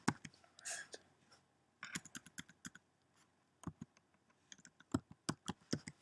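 A computer keyboard typed on in quick bursts of clicky keystrokes, with pauses between groups, close and quiet, plus a faint rustle near the start.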